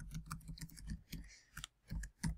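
Typing on a computer keyboard produces irregular quiet clicks and taps in short bursts, close and faint, with no speech.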